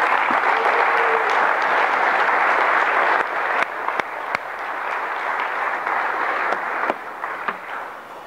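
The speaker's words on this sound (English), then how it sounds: "Would y'all give Dave a round of applause" An audience at an evening men's Bible study gives a round of applause, a dense, steady wash of many hands clapping that fades slightly toward the end.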